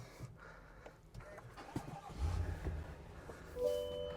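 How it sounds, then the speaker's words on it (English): A full-size Chevy Suburban SUV engine starts up quietly nearby: faint interior fumbling and clicks, then a brief crank and a low rumble as it catches, settling into a soft idle with a light chime. "Let me start the engine."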